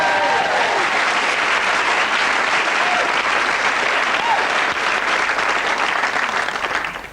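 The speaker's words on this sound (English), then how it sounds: "a big round of applause" A studio audience applauds loudly and steadily for a performer on a 1988 BBC2 comedy show, dense clapping filling the whole stretch before tapering slightly at the end.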